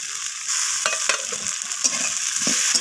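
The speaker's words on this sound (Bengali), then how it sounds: "টমেটোটাকেও আমি সব কিছুর সাথে একটু ভেজে নিচ্ছি" Chopped tomatoes frying in a pan with browned potatoes and onions for a spicy kingfish curry, a steady close sizzle broken by several scraping stirs of a spatula, with no talking.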